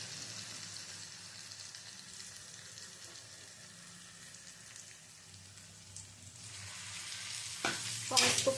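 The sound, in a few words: marinated taro frying and stirred with fried onions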